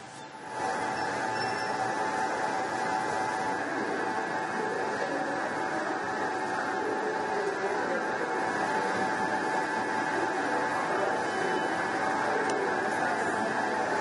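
Metro train travelling with passengers aboard, a steady rumbling hum of the moving carriage with a constant mid-pitched drone, heard from inside at moderate level without interruption.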